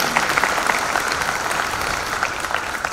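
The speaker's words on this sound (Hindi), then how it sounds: "चाहता हूँ ताली बजा के मुख्यमंत्री जी का धन्यवाद दें।" An audience at a forum in Indore applauds the chief minister with steady, dense clapping that holds at an even, fairly loud level throughout, with no voices rising above it.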